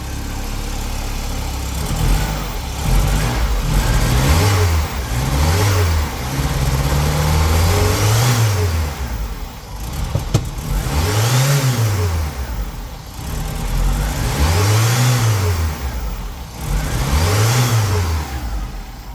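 An MK2 VW GTI with CIS fuel injection being tested is revved repeatedly. The engine rises and falls in several loud rev sweeps, stumbling and uneven between them, then drops back to a rough idle.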